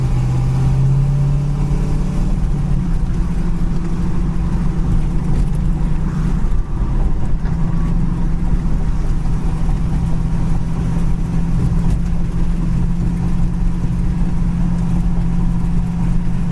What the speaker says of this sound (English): We're doing about 35, 40 on this bumpy town road.